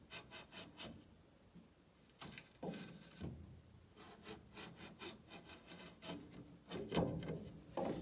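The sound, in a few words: rubbing down a surface by hand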